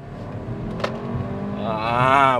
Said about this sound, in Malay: yang ni bunyi 4 silinder turbo 2 liter engine ni masih betul